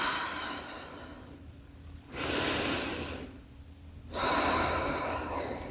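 Slow, deep breaths during a beginner Pilates oblique twist, each long airy inhale or exhale swelling and fading in turn, close and clear with no talking.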